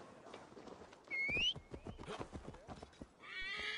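Horse in the video game Assassin's Creed Valhalla giving a sharp, close whinny amid clip-clop hoofbeats, followed by a brighter rising call at the end.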